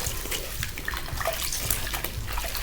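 Tap water running steadily into a bucket indoors, filling it for washing dishes in a living room; a close, continuous splashing rush with no talk.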